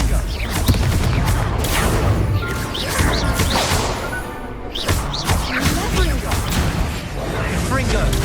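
Confringo spell blasts in a wizard video game: repeated explosive bursts, crashes and whooshes piling up densely and loudly throughout, with a voice calling out over the chaotic din.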